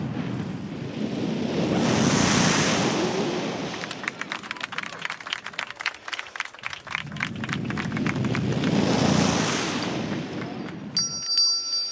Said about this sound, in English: you got the waves coming in